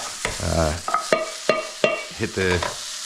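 Onion and other vegetables cooking in a pan, with a spatula scraping and stirring in several distinct close strokes over a soft background sizzle, no one speaking.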